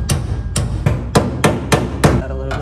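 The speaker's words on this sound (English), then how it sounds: "I've never even used one of these hammers before." A hammer beats a VW Bus repair panel in a restoration workshop, six or seven sharp metallic blows at a steady, roughly half-second rhythm, loud and close with no talk.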